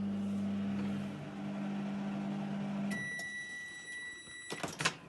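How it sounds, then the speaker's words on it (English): A microwave oven hums loudly while heating damp salt towels, then cuts off and gives a short series of high beeps, followed by clunks as the door is opened. "Put the damp salt towels into the microwave and heat for 2 to 3 minutes on high setting."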